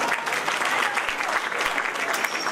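Audience applause at an event in Karachi, a dense steady wash of many hands clapping throughout, fairly loud and sustained with no pause.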